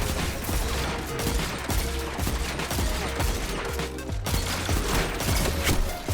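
Rapid, sustained gunfire from the Destiny 2 video game, dense overlapping shots and bursts continuing for several seconds, loud and close with layered game effects underneath.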